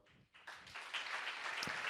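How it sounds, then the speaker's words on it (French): Applause from a conference audience at a round-table event, thanking the organising team; a thin patter starts, then swells after half a second into steady, fairly soft clapping from many hands. "je voudrais qu'on les applaudisse maintenant"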